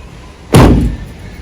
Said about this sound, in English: back door opens and closes